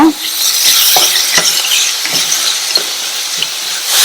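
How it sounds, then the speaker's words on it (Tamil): Steady sizzling of spice paste frying in hot oil for a crispy snack, with occasional scraping stir strokes cutting through the continuous hiss. "இந்த மசாலா எண்ணெயிலே வதங்கி நல்லா ட்ரை ஆகிற வரைக்கும் இந்த மாதிரி வதக்கி கொடுங்க"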